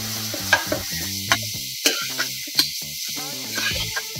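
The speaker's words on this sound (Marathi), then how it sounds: "आता हा कीस या तुपामध्ये थोडा वेळ परतून घ्यायचा आहे।" Grated carrot stirred and fried in ghee with dry fruits in a pan: a steady sizzle runs throughout, broken by several sharp scraping clicks of a spoon against the pan, close and fairly loud, with no talking.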